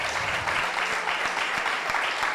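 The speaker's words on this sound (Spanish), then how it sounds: "Dale un fuerte aplauso al Señor." A church congregation in Mar del Plata applauds at a Sunday service, a dense, steady wash of many hands clapping with a few sharper claps standing out.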